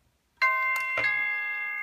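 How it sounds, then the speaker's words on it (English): A doorbell wired to a Wemo Maker rings close by with a single bright, sustained chime that rings on and slowly fades. "You can also do it with the doorbell, of course."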